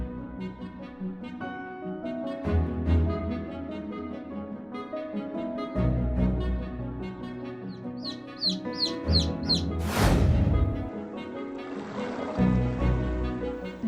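Chickens, roosters and hens clucking amid a busy barnyard mix, with bird calls throughout and a brighter burst of calls near the end, set against music.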